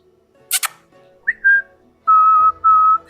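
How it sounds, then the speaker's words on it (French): A whistle blown several times: a short sharp burst, then a rising chirp and tone, followed by two longer steady blasts, close and loud. "Je vais siffler dans le sifflet à plusieurs reprises."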